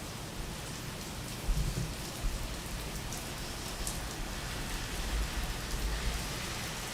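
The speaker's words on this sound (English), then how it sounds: "Oh, it's still raining." Steady rain falling outdoors, a continuous hiss of drops with low rumbles and occasional heavier thumps, moderately quiet and without voices.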